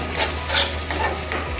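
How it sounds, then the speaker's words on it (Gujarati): Onions sautéing toward golden brown in a pan over medium gas for roti tacos: a steady sizzle broken by several scraping stir strokes, close and fairly loud, with no talking. "બે કે 3 મિનિટ સોતે થવા દેશું। ઓનિયન થોડું ગોલ્ડન બ્રાઉન થશે ને ત્યાં સુધી કરશું આપણે।"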